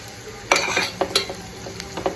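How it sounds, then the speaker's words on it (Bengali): Shredded cabbage fries in a hot pan on a home stove, with a steady sizzle under sharp scrapes and clinks as a utensil stirs it in uneven strokes, close up, no voices. "বাঁধাকপিটা ভাজা ভাজা হবে, একটু ভাজা ভাজা হবে।"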